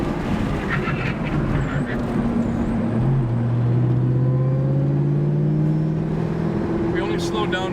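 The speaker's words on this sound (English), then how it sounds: "we're going to do a 60 mile an hour threshold brake here" A Ford Mustang fitted with a Wilwood big brake kit brakes hard from about 70 to 40 mph, its loud, close engine and road drone falling steadily in pitch.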